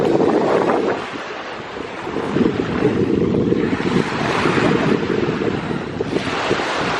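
Wind buffets the microphone at a southern French beach while waves roll and break nearby, a steady loud wash of surf with gusty rumble throughout and no voices.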